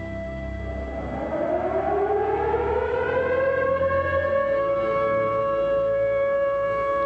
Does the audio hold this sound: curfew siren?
yes